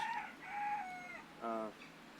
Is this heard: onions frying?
no